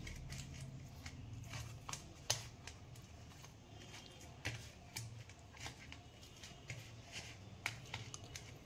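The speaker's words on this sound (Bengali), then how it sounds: "এই নুন হলুদের গুঁড়ো দিয়ে আমি এটাকে ইলিশ মাছটাকে মেখে নেব।" Soft wet squelching and light slaps of hands mixing hilsa fish pieces with salt and turmeric powder, a close, quiet, irregular kneading with occasional sharper clicks.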